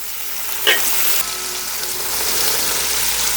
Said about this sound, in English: As you can see, the onion is getting cooked.